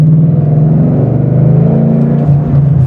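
A 2013 Ford Mustang GT with an Exedy clutch and MT82 manual gearbox pulls under acceleration, its V8 giving a loud, steady low engine drone heard from inside the car.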